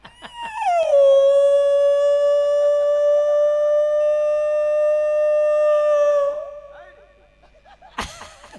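A voice imitates a dog howling, a single long, loud, sustained wail that rises and then holds a steady pitch for about five seconds before trailing off, followed by a brief sharp noise.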